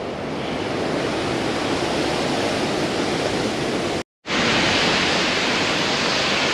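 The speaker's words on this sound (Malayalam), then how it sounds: "അവിടുന്ന് വെള്ളം പോകുന്ന കാഴ്ച നോക്കാം" Water at Barapole dam, a solar project site, rushes in a steady, loud, broadband roar that continues without letup, with no voices over it.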